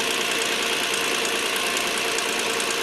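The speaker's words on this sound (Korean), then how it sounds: "들리시나요? 밸브 테프 치는 소리가" A Hyundai Veracruz 3.8-litre gasoline engine with about 100,000 km idles steadily with a fast, light ticking from the valve tappets running through the motor's hum.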